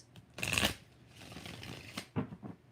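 Tarot cards shuffle close up in a few quick riffling bursts with brief pauses between, with no voices.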